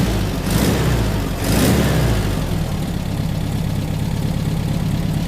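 A rebuilt Volkswagen 40 hp air-cooled engine idles steadily just after its first start, close and loud, with a couple of brief surges in the first two seconds before settling into an even idle.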